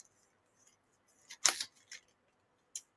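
A few crisp snips of scissors cutting through stiff brushed gold metallic cardstock, close and quiet, in short bursts with pauses between.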